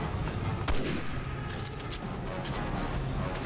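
Gunfire in the video game Resident Evil 6 comes as a dense burst of shots over a loud, noisy game soundscape, with a sharp crack near the start.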